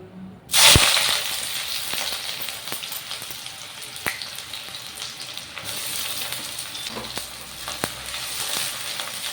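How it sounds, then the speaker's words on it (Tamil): Chopped onions dropped into hot oil in a pan: a sudden loud splash of sizzling, then a steady, dense frying hiss with scattered crackles and pops continuing throughout, close up and with no talking. "இதில் நம்ம நறுக்கி வச்சுருக்க வெங்காயத்தை சேர்த்துக்கலாம்."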